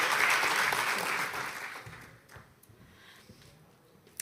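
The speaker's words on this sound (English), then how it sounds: "Please give them a round of applause." An audience applauds loudly, the clapping fading away over a few seconds into quiet room sound.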